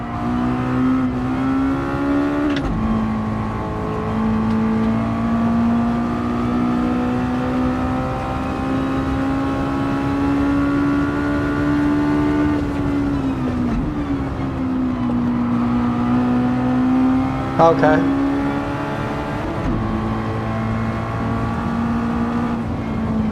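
Race car engine in a VR racing game, a steady sustained drone that rises and dips with throttle through roughly twenty seconds, loud and continuous, with a brief spoken word over it.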